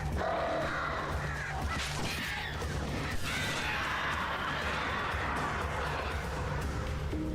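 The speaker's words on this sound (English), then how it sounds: "Damn birds." A flock of birds attacks in the video game Alan Wake Remastered, with scattered caws, crashing impacts and clattering combat sounds under a thick, continuous game soundscape, and no speech.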